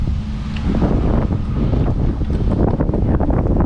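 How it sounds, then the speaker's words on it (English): Strong wind buffets the microphone on the Hudson River waterfront at Chelsea Piers, Manhattan, in a steady, loud roar of low rumble with gusting bursts, no voices heard. "It's so much windy. This place is so much windy."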